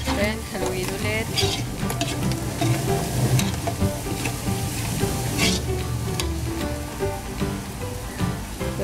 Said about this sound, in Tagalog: Then, haluin ulit.